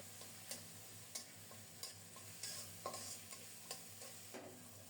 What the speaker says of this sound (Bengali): সামান্য একটু নেড়ে চেড়ে নিচ্ছি